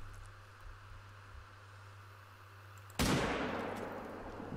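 A hunting rifle, a .300, fires at a Rocky Mountain elk in theHunter Call of the Wild: one loud, close shot hits abruptly against a steady ambient hum, then trails off into a long, rolling echo.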